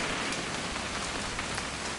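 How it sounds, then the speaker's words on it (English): Rain in What Remains of Edith Finch, a dense, even patter of drops on surfaces, soft and constant throughout the short stretch with no voices. "It's gonna rain the whole weekend, isn't it?"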